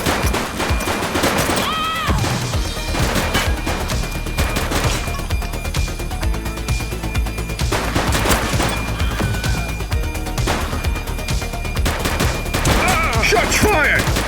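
Gunfire rings out during a police shootout in the video game The Precinct: repeated sharp bursts and shots scattered across a dense, busy mix, with voices calling out at moments between the volleys.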